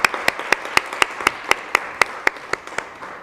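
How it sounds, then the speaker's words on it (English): Applause at a public speaking competition final: a steady run of loud, sharp claps in a quick regular rhythm, close and fairly uniform, like a small group clapping together over a faint hum. "Give it a clap."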